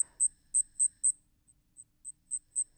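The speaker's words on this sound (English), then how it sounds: "So this is, once again, the wings rubbing together." Cricket chirping by rubbing its wings together, a clear, high, steady pulse of short chirps repeating at an even rhythm, close and alone in otherwise quiet surroundings.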